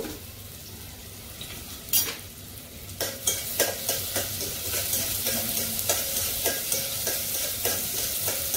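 Onions frying in oil for chicken biryani sizzle steadily throughout, with repeated clinks and scrapes of stirring in the pan growing busier after the first few seconds; no talking.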